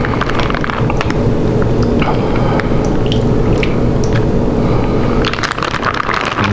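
Cooking juice from sous vide smoked ox tails drains off into a pan as a loud, continuous rushing splash that carries on for the whole stretch with no pause.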